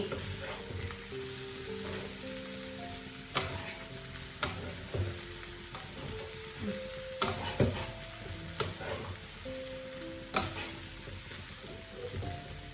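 Steady loud sizzling of food stir-frying in a large pan, with occasional sharp clanks of a utensil against the metal, no voices.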